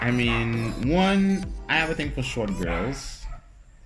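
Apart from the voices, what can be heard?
No everyday noises stand out.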